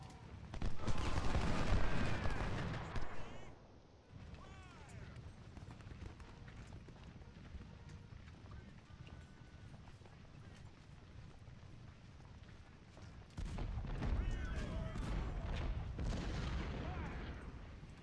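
Battle gunfire and artillery from Ultimate General: Civil War at Cedar Mountain, a loud burst of volleys at the start, a quieter rumbling stretch, then another heavy swell of firing near the end.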